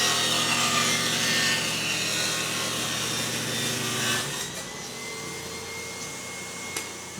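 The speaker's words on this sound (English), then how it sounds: "I'm going to cut that on the table saw." A table saw cuts wood for a modern office cabinet, giving a loud continuous broadband whir with the blade under load, then the pitch drops and the saw spins down after about four seconds.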